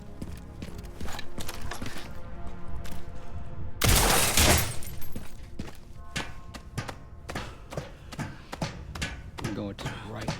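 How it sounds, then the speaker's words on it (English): Gunshots ring out to shoot a ladder down in the Resident Evil Requiem video game, with a loud burst of noise about four seconds in among sharp footsteps, clanks and taps; a voice talks over parts. "shoot this ladder down"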